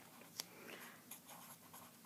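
Pen or pencil scratching on a sideways-turned page while writing a place value chart, faint and close, with a sharp tap followed by soft, irregular strokes.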